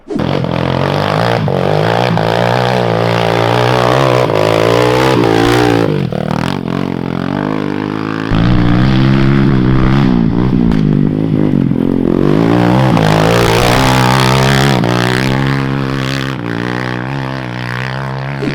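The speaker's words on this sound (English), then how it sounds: "It has a 220cc Bayou engine, Kawasaki Bayou, and it was a ripper." A 220cc Kawasaki Bayou engine powering a kids' off-road go-kart runs loud and close, revving up and down with rattling clatter throughout.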